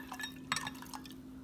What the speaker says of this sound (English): I'm gonna take a little ginger beer here that I picked up at Trader Joe's.